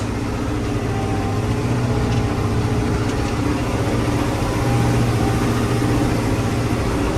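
A tractor engine idles with a steady low rumble for several seconds, with faint rattling and no talk.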